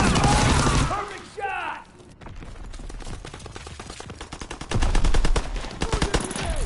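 Rapid automatic gunfire in Call of Duty, with dense strings of close, loud shots and bursts broken by short pauses, and a voice talking over the shooting.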